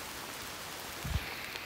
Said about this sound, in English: This rain is picking up, and I'm starting to get extremely wet,